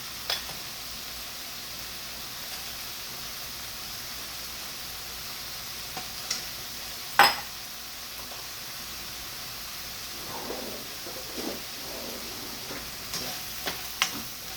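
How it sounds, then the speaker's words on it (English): Chopped meat for tacos frying in a pan, a soft steady sizzle under low hiss with a sharp utensil clack midway and scattered light scraping and ticking later. "I do want the chopped meat to cook"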